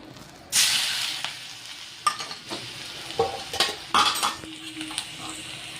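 Garlic and chillies drop into hot tempering oil for a tadka, bursting into a loud hiss that settles into sizzling, broken by sharp metal clinks and scrapes of a spoon stirring in the pan.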